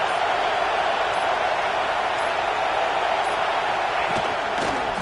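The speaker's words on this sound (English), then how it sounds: "This crowd busting the decibel meter and trying to will a fourth down stop." A college football video game stadium crowd roars in a steady, dense wall of noise throughout, loud and unbroken, as fans try to force a fourth-down stop, with faint scattered shouts inside the din.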